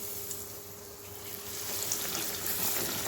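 Bread pakoras frying in hot oil in a kadhai, a steady close sizzle with a faint whistle-like tone, growing louder toward the end, with no talking.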